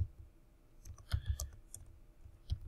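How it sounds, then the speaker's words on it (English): Sparse, quiet clicks of a computer keyboard being typed on, a few irregular keystrokes in small bursts with pauses between, close by in a quiet room. "I'm going to try to type this since my smartboard is not working very well."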